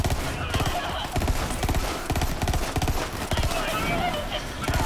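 Rapid gunfire in the video game Borderlands 3 crackles in dense, continuous volleys mixed with game effects, loud and busy throughout, with someone talking over it.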